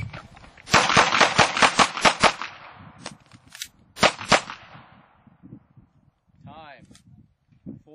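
A shooter on a timed tactical course, the Criterion Tactical triple nickel drill, fires a fast string of sharp, loud gunshots, then a few more spaced shots. A short quiet tail follows.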